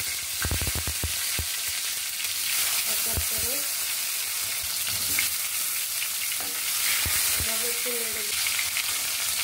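Pieces of kakrol (spiny gourd) fry in mustard oil with a continuous hiss and sizzle, broken by a few knocks and clinks of a utensil against the pan and faint speech in the background.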